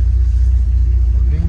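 A first-generation Ram truck's engine runs steadily with a low, continuous rumble, close and fairly loud, with voices talking over it.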